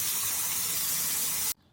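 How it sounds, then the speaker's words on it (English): Cold tap water gushes steadily for over a second as mint leaves are rinsed in a strainer, then the flow cuts off abruptly. "take your strainer, put all the mint leaves that don't have any brown on them, and rinse them for about a minute with cold water"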